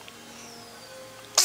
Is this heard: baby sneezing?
yes